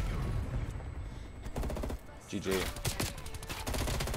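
Rapid bursts of FFAR 1 rifle fire in the Cold War video game, repeated volleys in quick succession over a busy game mix, with a player talking briefly.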